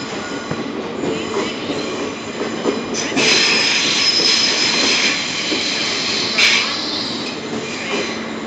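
A GWR Class 800 train, unit 800321, rolls into London Paddington station with a loud rumbling drone, wheel squeal and a few clanks under the station's echo.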